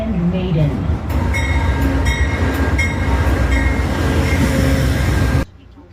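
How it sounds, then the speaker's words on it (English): A subway train interior after a New York ride, loud steady rumble and rattling wheels with tonal hum and squeal components, continuous and close, ending abruptly to a quieter background. "I thoroughly enjoyed my nice, relaxing train ride"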